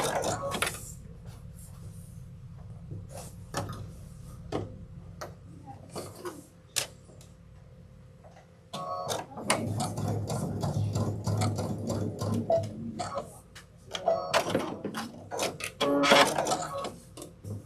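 A sewing machine stitches the binding on a Sunsetridge backpack, first in short separate bursts and then in a longer continuous run, close by and with a voice speaking.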